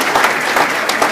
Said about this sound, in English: Let's give Scott a strong round of applause.